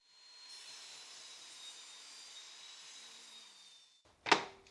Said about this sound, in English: I set the saw to 8 centimeters from the guide, and I'll trim them all to this width